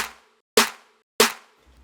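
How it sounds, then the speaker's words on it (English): Two crisp, layered snare-and-clap hits land about half a second apart, bright and snappy, each decaying quickly into silence. "then 2 snares layered. The second one is more like a clap actually."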